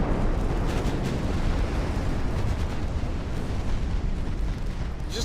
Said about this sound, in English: Look, he's taking another fucking torpedo.